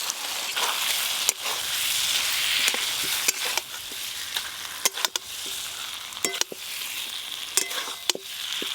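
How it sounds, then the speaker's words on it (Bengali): Fried potato pieces tossed into cooked masala with mustard paste, sizzling loudly in oil while a utensil scrapes and knocks against the pan in irregular bursts. "এবার ভেজে রাখা আলুগুলো দিয়ে দেব।"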